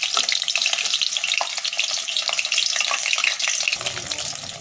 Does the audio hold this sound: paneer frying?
yes